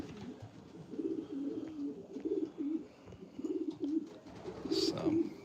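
Pigeons in a loft coo repeatedly from their nests, a steady run of low, rolling calls close by, with a brief higher chirp near the end.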